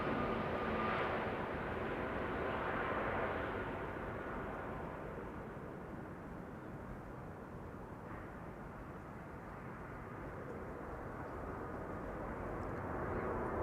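An Air Transat A321neo jet arrives at Amsterdam Schiphol Airport, a faint, distant engine rumble that eases after a few seconds and then holds as a low, steady drone.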